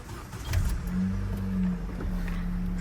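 A Renault Vel Satis with a 2.0 turbo F4RT petrol engine cranks briefly and fires up, settling into a steady, close idle hum that holds to the end.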